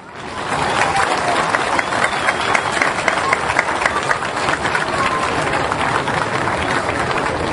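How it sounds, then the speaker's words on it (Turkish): Sustained crowd applause from a festival audience at the 2010 Taşucu Environment Festival in Turkey, a thick, even roar of many clapping hands that continues steadily for several seconds. "Ve ona da bir alkış istiyorum."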